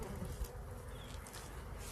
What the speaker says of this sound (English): So flying around right now, Tracy, so these are all worker bees?